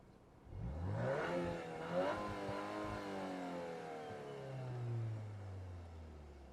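A Volkswagen Golf R Mk8 engine revs up twice with rising whine, then settles into a steady running drone that slowly falls in pitch, close and fairly loud throughout.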